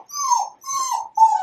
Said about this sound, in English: So sometimes my dog cries.